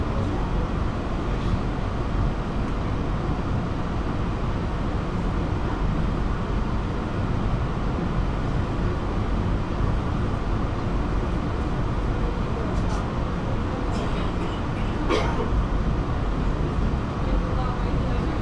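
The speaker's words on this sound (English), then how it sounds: "Train is arriving." A steady, loud rumble of an airport train pulling into a station at Doha airport, a continuous low roar with faint squeals near the end.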